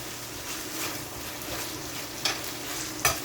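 Thyme and garlic frying with onion, scallion and other vegetables in a pan for Jamaican salt mackerel run down, a soft steady sizzle broken by a couple of sharp stirring clicks near the end.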